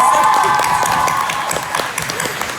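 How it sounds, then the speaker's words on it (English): Convention audience applauding a guest actress at a fan event, dense clapping with scattered cheers, loud at first and gradually thinning, with a few voices mixed in. "Please, everybody, clap to Lana."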